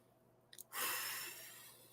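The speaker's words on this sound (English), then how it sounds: "I'm just breathing loud because we're on the radio and video" One long, slow, loud exhale during a breathing exercise, close to the microphone, starting after a few short catches of breath and fading gradually into a steady airy rush with no talking.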